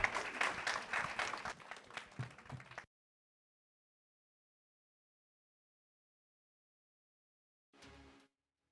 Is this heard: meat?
no